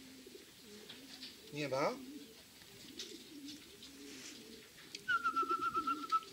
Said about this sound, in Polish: Bo tu lecą nade mną gołębie, nie moje.